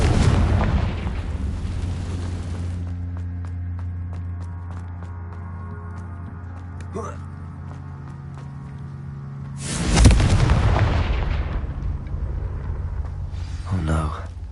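A Confringo blasting curse explodes in the Hogwarts Legacy video game, with a loud booming blast at the start and another sharp explosion near the end, separated by a lingering low rumble and hum.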